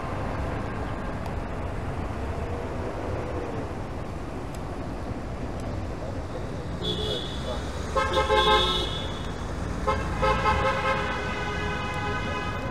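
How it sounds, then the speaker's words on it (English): A car horn honks a few times on a city street in Toronto, heard from an e-bike in traffic, the toots standing out over steady road and wind noise. "Honk, honk, honk."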